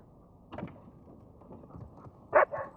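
In the video game Uncharted 4, a dog gives two short barks at a distance, one faint and a louder one after it, against a quiet background.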